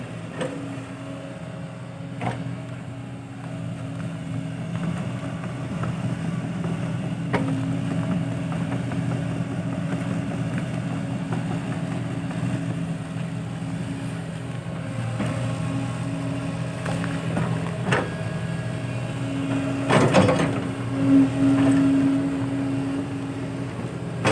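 A steady, droning engine rumble runs throughout, like a tractor idling nearby, with a brief louder rattle toward the end.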